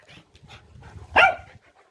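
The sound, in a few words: dog barking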